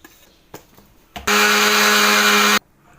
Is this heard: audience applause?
no